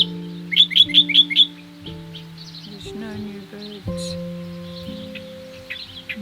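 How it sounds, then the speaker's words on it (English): Sparrows and swallows chirp near a waterway marker between lakes, with a quick burst of five or six sharp tweets followed by scattered calls over a steady droning hum. "Lots and lots of sparrows. Yeah, and Lots and lots of swallows."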